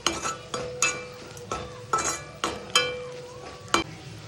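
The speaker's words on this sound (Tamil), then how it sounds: "நல்லா ஃப்ரை ஆகிடுச்சு வெங்காயம் வரமிளகா எல்லாமே" Onions and dried red chillies fry in a pan for Pallipalayam chicken, a metal spatula clinking against the pan in steady, evenly spaced strokes over a low background sizzle, close and fairly quiet.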